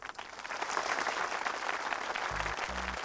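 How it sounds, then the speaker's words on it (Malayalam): An audience applauds in a dramatic film scene: quiet, continuous crowd clapping heard at a distance, with a couple of low thumps near the end. "കയ്യടി നിർത്താൻ പറയൂ."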